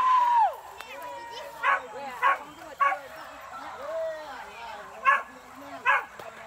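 Hunting dogs on a hunt in Lintau Buo yip and bark in short, sharp bursts of about five, separated by gaps with faint whimpering. The sound is moderately distant and comes over soft outdoor background noise, with voices present.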